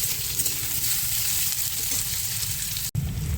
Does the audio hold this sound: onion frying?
yes